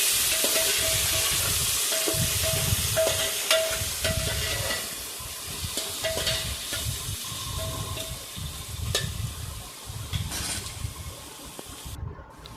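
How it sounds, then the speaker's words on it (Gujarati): Chopped onion sizzles in a hot pan as it is stirred for spicy tempered rice, steady frying hiss broken by rhythmic scraping strokes and light metallic clinks, close and alone. "તેને સરસ રીતે મિક્સ કરી અને સાતળી લઈશું."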